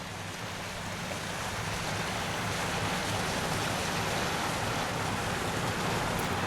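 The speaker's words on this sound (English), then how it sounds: "we can hear a boat coming" A boat passes on the River Thames near Wallingford, a steady broad rushing wash and low engine rumble that builds slightly and holds for several seconds, mixed with wind noise on an outdoor riverside path.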